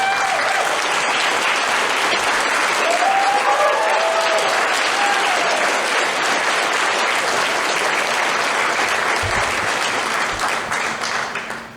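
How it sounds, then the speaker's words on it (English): Audience at an award banquet applauding, a dense, loud, continuous wash of clapping from a crowd that carries on for over ten seconds before tapering off at the end. "So give a round of applause."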